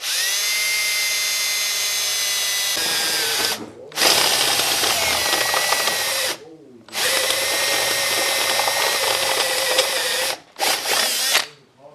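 A power drill bores through an aluminum air intake tube in three long, loud, whining bursts, separated by short silent pauses and ending with a quick final burst.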